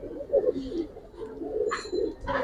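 Large Giribaz and coloring pigeons coo in a loft, with repeated low throaty coos rolling close and steady. A couple of brighter rustles or wing flutters break in near the end.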